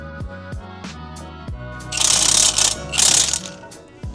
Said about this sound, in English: I'm going to go ahead and tighten up the bolts on the back of there